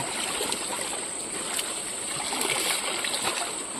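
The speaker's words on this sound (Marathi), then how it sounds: "पिशवी पण धुवून घेतोय धुवून" A bag is rinsed in a river during the first rains, a steady rush of flowing water with faint splashes throughout, close and unbroken.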